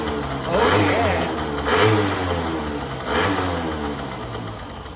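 An engine fitted with a freshly rebuilt, chem-dipped Dellorto carburetor runs nearby with the choke on, holding a loud, steady drone that swells in three throttle blips.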